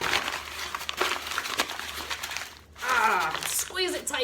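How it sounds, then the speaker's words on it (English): Dried charcoal-painted paper crumpled by hand, a crackly papery rustle running through the clip in bursts, close and fairly loud, mixed with a person talking. "I'm going to just crumple it all up."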